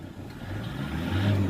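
A car engine revs steadily up to about 3,000 rpm after an engine oil change, rising in pitch, a close, continuous mechanical drone with no voices.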